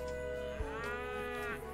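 A cow in the farm video game Ice Kreamu gives a single drawn-out moo that rises and falls, heard clearly over a steady tonal background of game music.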